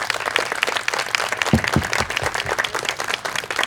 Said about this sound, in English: Can everybody give these men a round of applause for their services?